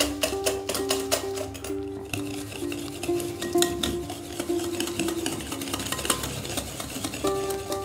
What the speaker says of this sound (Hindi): इसे हम इतना मिक्स करना है कि चीनी अच्छी तरह से इसमें मिक्स हो जाए